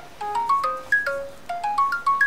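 A telephone in an Iranian comedy series scene plays a repeating melodic ringtone of bright, rising electronic notes, clear and close, with no voices.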